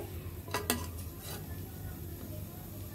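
Spices stir-fried in a pan for a vegetable bhaji made without onion or garlic, a faint sizzle under a low background hum with a couple of sharp utensil scrapes near the start.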